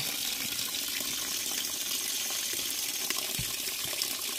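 Steady running tap water pours continuously while meat is washed under it with turmeric powder in a home kitchen, a broad even hiss with no talk.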